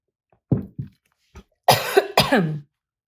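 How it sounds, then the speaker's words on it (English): A person coughs several times nearby: a few small, soft coughs, then two louder, harsher coughs close together. "now I have to cough"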